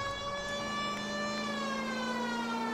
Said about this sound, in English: Did not hear the sirens!